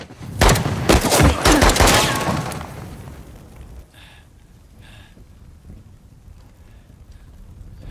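Gunfire in the video game Uncharted: The Lost Legacy, a loud dense volley of shots over the first two seconds, then fading into quieter wind-like ambience with faint distant noises.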